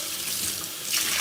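Water runs steadily from a sink tap as a milkshake glass, holding old banana eggnog milkshake, is rinsed, with the splash rising a little louder near the end.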